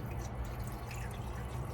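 Water pours into the radiator of a 1950 Studebaker Champion, making a continuous low gurgling splash that stays steady and close throughout.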